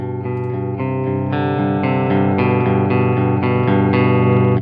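Fat, clean electric guitar tone through a high-gain amp kept below distortion, played with light picking: a sequence of sustained, ringing chords and notes changing every half second or so, with a touch of reverb.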